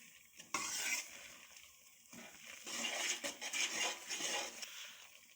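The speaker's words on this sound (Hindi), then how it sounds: "इसको हमने अच्छी तरह हिला लेना है ताकि ये फ्राई हो जाए।" Grated coconut sizzles and fries in a pan for panjiri while a spoon stirs it, scraping and clinking against the metal in uneven bursts over a steady hiss, close and clear.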